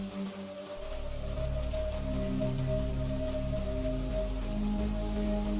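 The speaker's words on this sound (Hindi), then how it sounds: "आकाश में बिजलियां गड़गड़ा रही थी, तेज बारिश भी हो रही थी" Heavy rain pours steadily and loudly throughout as a story sound effect, a dense continuous wash with a low rumble underneath and no voices.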